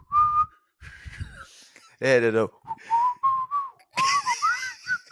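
A person whistles in a short rising and falling burst, loud and close, imitating a basketball referee's whistle, with casual talk and laughter before and after it.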